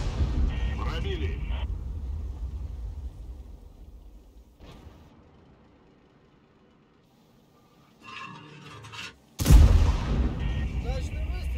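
Tank cannon fire from an AMX M4 54 heavy tank in World of Tanks, a loud sharp boom near the end after heavy rumbling engine and battle noise, with crew voice lines spoken over it.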